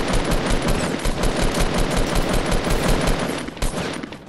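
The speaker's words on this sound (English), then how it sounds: "Oh my god, I'm getting shot." Machine gun fire striking a player in a video game: a sustained, dense stream of rapid automatic shots lasting several seconds, loud and close, easing briefly near the end, with no voices over it.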